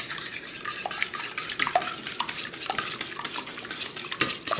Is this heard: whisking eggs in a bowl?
yes